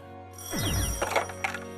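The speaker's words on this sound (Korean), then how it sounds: "다급히 걸려온 전화 한 통" A telephone rings in a short, sharp burst of bright bell-like trills, loud and close, and the ringing stops after under two seconds.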